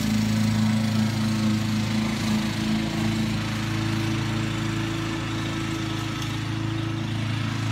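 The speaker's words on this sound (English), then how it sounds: "I think she's liking it, the mower. It cuts real nice" A brand-new lawn mower cuts grass with a loud, steady engine drone that holds close and constant from start to finish.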